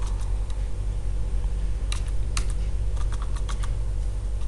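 Keys clicking on a computer keyboard while entering a spreadsheet formula, a steady low hum and fan-like drone underneath with several brighter bursts of keystrokes.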